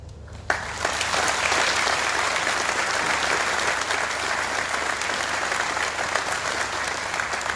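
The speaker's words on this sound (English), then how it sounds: "Please join me in a round of applause in welcoming our senior leaders to today's ceremony." A sudden burst of applause from the audience at a military transfer of authority ceremony between Army National Guard divisions in Kuwait, starting abruptly and continuing as a steady, sustained wash of clapping.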